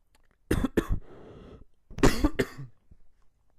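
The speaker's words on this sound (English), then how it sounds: "Oh, that's unprofessional coughing." Several sharp coughs from one person, two quick bursts followed by a rougher, breathy stretch, then another close pair of hacking coughs, near and fairly loud with no other sound around them.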